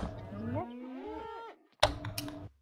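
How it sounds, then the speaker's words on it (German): Cattle in the Minecraft video game give a couple of drawn-out game-style moos with gliding pitch, a clear call followed by a short pause and another burst, near and fairly loud. "Ich züchte jetzt noch Kühe, wenn ihr wollt."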